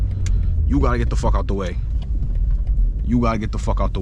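A 600 HP BMW M2 sliding and spinning in the snow, its engine a heavy, continuous low rumble beneath excited voices talking close by.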